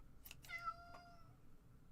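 A cat meows twice in quick succession, a soft rising then falling cry heard close and clear in a quiet room.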